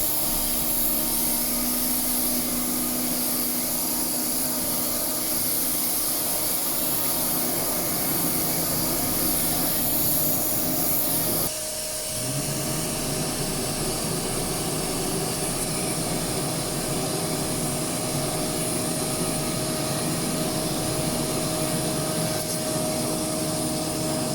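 Air conditioning running in a black or red Honda City with about 376,613 km on it, just serviced with new refrigerant and a cleaned condenser: a steady, loud whooshing drone with a constant hum, changing tone abruptly partway through, no voices.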